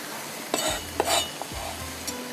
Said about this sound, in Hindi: चलिए अब मैं इसको भूनती हूँ।